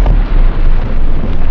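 Tannerite exploding target detonating, a loud sustained blast with a deep rumbling low end that fills the whole moment and keeps roaring without a clear decay.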